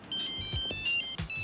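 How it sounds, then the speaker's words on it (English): A cell phone ringtone plays loudly and clearly, a bright repeating electronic melody in short phrases with low thumps between them, alone with no talk, in a cartoon setting. "I have a phone call on my cell phone."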